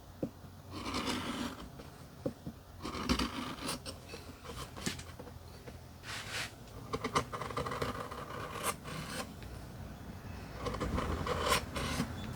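A knife carves the bowl of a wooden spoon with repeated faint rasping, scraping strokes in an otherwise quiet room.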